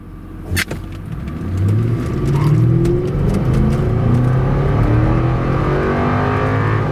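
A Cadillac XLR roadster engine revs hard and climbs steadily in pitch as it accelerates from a green light, loud and close, after a brief thump at the start.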